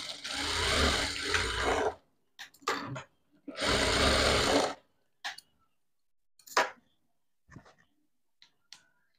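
Sewing machine stitching a dart in a blouse, with two sustained runs of stitching followed by scattered short taps and clicks from handling the fabric.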